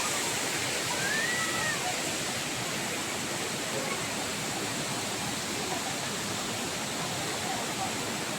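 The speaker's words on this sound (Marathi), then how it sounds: "हा वॉटरफॉल खोपोलीचा वॉटरफॉल आहे" Khopoli waterfall in a forest pours with a loud, steady broadband roar that fills the whole stretch, close and continuous with no breaks.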